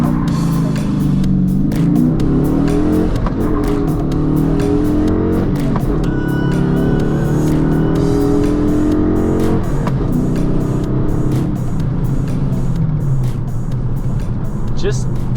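Dodge Challenger Shaker with a manual gearbox accelerating hard from inside the cabin, its engine climbing in repeated pitch sweeps as it is rowed up through the gears, loud and close throughout.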